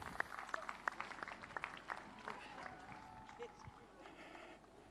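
An audience at the Melbourne Royal Show 2024 dog judging, during the Best of Breeds Utility Group, claps in scattered, quiet bursts that thin out toward the end, with an announcer's voice under the applause.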